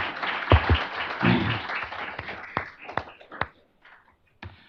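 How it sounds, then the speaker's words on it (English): Audience at a law school panel on atrocity prevention giving a quick round of applause, a burst of scattered clapping that thins into a few isolated claps and then fades to near silence. "Please give them a quick round of applause."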